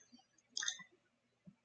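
Computer mouse clicks while working in Cricut Design Space come through as a few small, quiet, close clicks spaced apart in near silence.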